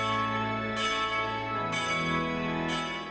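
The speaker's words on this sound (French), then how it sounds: "Le son des cloches et de l'orgue ne fait plus qu'un avec le chant du Gloria." At an Easter vigil, church bells peal together with an organ, bright repeated strikes ringing over sustained organ chords that carry through without a break, joined with the Gloria being sung.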